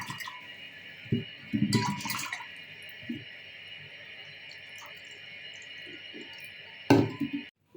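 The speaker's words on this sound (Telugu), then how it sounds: "పెసరపప్పు 1 కప్పు తీసుకొని శుభ్రంగా వాష్ చేసుకోవాలి" Moong dal being rinsed clean in water, with a few short splashing and sloshing bursts early on and another near the end, over a quiet, steady background hum.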